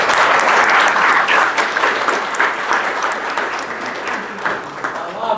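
A hall audience gives enthusiastic applause at a tribute ceremony for Pernambuco frevo music. The clapping is loud, dense and sustained, easing slightly toward the end.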